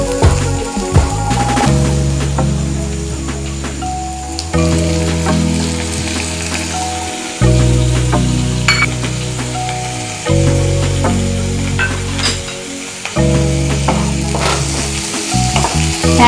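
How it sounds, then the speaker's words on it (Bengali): Chopped tomato and green chilli fry with browned onions and a little butter in a pan for dal fry, producing a loud, continuous sizzle with occasional stirring over a steady tonal background. "এক মিনিট টমেটোটা দিয়ে একটু ভাজা ভাজা করবো, টমেটো কাঁচা লঙ্কাটা দিয়ে।"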